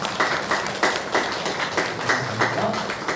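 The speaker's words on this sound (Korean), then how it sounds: "우리 박수로 격려해 주시기 바랍니다." A congregation at a Sunday church service applauds to encourage visiting missionaries. The clapping comes in a steady, rhythmic pulse of bursts over a low background hum.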